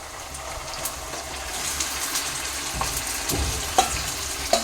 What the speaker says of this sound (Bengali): চিকেনটা দিয়ে ভালো করে কষিয়ে নেব।